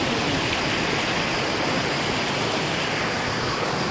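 Steady, loud rushing water flows without pause, a dense broadband roar of a fast mountain stream close by, in Blagaj, Bosnia.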